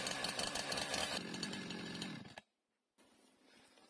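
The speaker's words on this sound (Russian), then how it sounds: "И заводим нашу пилу" A small Husqvarna chainsaw, used to clean up a felled pine, runs with a loud, rough engine roar that shifts pitch as it revs, drops to silence, then resumes as a lower, softer idle.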